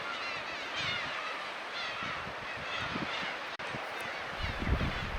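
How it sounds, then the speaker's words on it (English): Black-tailed gulls near an osprey nest in south Hokkaido, Japan call repeatedly in harsh, honking cries at moderate distance, over constant wind noise with a brief knock partway through. "The local black-tailed gulls, which were nesting nearby, were constantly harassing the ospreys."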